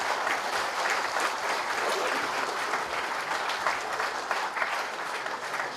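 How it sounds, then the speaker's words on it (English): An audience at a memorial lecture gives a director a round of applause, dense continuous clapping from a large crowd lasting several seconds with no talk over it. "Please give a round of applause for the Director."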